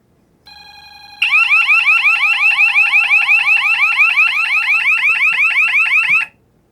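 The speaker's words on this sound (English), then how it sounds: "if I were to flip the switch down to restore the zone, and then flip it up, we get an alarm" A loud electronic security alarm from a Radionics D7412G control panel bursts on after a short tone, warbling rapidly and continuously for about five seconds before stopping abruptly.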